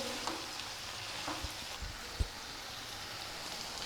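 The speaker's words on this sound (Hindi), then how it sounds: "इसी तरह से हिलाते हुए हम भिंडी को थोड़ा पका लेंगे" Okra fries in an uncovered pan over a medium flame with a soft, steady sizzle, while a few stirring knocks and scrapes come through. The sound is close but fairly quiet, with no speech.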